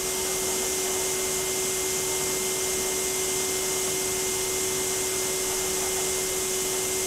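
A FANUC Robodrill vertical machining center with its spindle spinning at 5,000 RPM, giving a steady, fairly quiet machine hum and airy whir with a constant tone, unchanging throughout.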